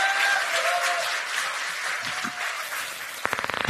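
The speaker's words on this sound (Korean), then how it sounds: "뜨거운 박수 부탁드립니다." A crowd at a Democratic Party campaign launch rally in Seoul applauds in a dense, sustained wash, fading somewhat before a few louder rhythmic claps break through at the end.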